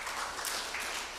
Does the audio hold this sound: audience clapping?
yes